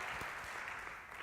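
A church congregation applauds in praise of God during a Sunday service, a brief, faint wash of steady applause from a distance.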